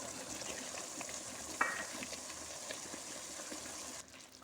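Potatoes and peas fry in a pan with a faint, even sizzle and light stirring, one sharp clink partway through before the sound drops quieter near the end; no talking.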